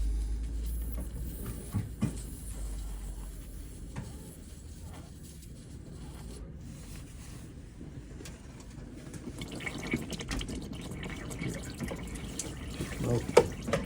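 Coolant water trickles and splashes from an opened bleed nipple on a Vauxhall Corsa cooling system, a faint steady flow with occasional drips under low background noise.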